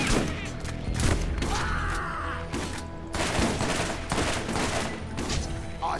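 Dense gunfire from the video game Borderlands rattles in repeated bursts and sharp cracks, loud and continuous, layered with other in-game effects.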